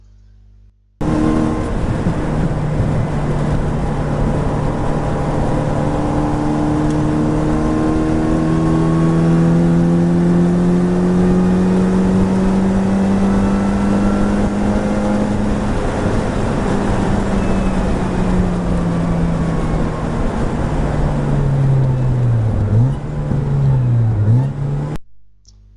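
A car engine on a trackday circuit holds a long sustained rising drone at high revs, then drops away near the end with quick heel-toe downshift throttle blips. It is loud and close, as if recorded inside the car.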